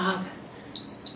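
A short electronic workout interval timer beep rings out after a brief bit of voice, a single steady high tone lasting about a quarter second.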